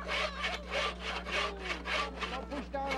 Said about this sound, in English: These tough Athabascan women are pounding and sawing in good fun.